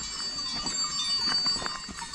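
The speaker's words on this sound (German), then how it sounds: "Schaf- und Ziegenherde. Freilaufen, wie alle Tiere hier." Small free-roaming herd of sheep and goats wearing bells on an alpine hillside in Trentino-South Tyrol, faint scattered bell clinks over a soft outdoor background.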